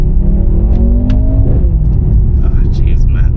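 Mercedes-AMG C43 engine revving under load, the exhaust rumbling loudly with rising harmonics that swell and then drop, ending in scattered crackles and pops near the close.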